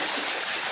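Swimmers splashing through open water during a triathlon, a brief burst of dense, rushing splashes and churning water, steady and fairly loud.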